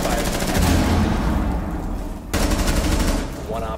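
Rapid automatic gunfire in the Rainbow Six Siege video game, loud and continuous with a brief break midway before the shooting resumes.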